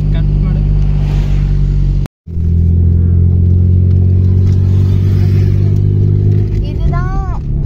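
A Maruti 800 engine labouring up a winding ghat road near the Tamil Nadu–Karnataka border, a loud, close rumbling drone that drops out briefly, then resumes strongly, with people talking over it.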